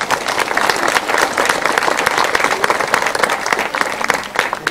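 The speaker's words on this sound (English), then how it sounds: "Please give her a big round of applause." Dense, steady applause from a live audience at a small stage show, continuous clapping at full loudness from start to finish.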